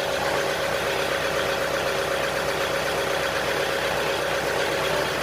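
A used machine offered for sale idles steadily on its own, a continuous low engine drone with a faint mechanical knock running evenly throughout, no voices over it.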